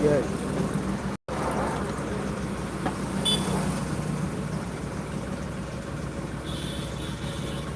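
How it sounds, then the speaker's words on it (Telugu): Steady rain pours down in a constant broadband wash, with faint voices in the background. "వానలు అయితే బగ్గ పడుతున్నాయి"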